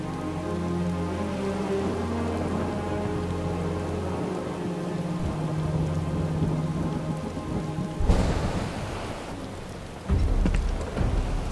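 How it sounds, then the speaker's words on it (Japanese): Heavy rain pours steadily in Final Fantasy VII Rebirth, a dense continuous wash throughout, with a sharp crackling burst near the end and louder surges that suggest thunder over a low in-game music bed. "すごい雨だな。"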